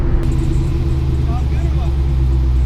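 Car engine revving hard with VTEC engaging, a loud, close, rumbling roar that holds steady over a few seconds, with a brief rise in pitch as it climbs.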